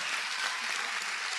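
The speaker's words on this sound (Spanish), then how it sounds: "Denle un aplauso al Señor Jesucristo" A church congregation claps together during a Spanish-language worship service, a dense, even wash of applause holding steady without pause.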